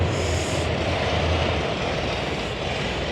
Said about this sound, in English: This is a 1964 Volkswagen Beetle powered by a Cessna airplane engine.